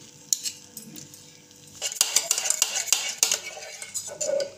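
A spoon stirs and scrapes set homemade yogurt (doi) in a container, making close, repeated clinks and scraping taps that build into a steady run of metallic contacts.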